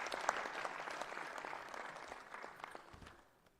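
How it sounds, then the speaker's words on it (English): Audience applause fills a formal luncheon honoring Uganda's 2022 sports medalists, a steady wash of many hands clapping that holds evenly before fading out toward the end. "I want us to clap for them"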